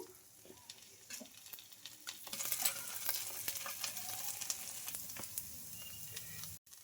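A wheat flour rava dosa crisps in oil on a pan, giving a soft continuous sizzle with faint crackles that swells midway and holds steady, alone and fairly quiet.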